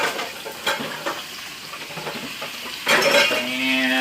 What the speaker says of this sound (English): Nothing like the sound of meat frying up.